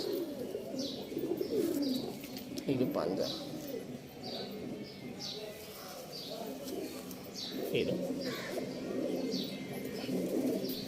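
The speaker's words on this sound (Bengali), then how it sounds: "এটা ব্রিডিং পায়রা" Breeding pigeons cooing and rustling close by, with a person talking over the birds and occasional soft flutters.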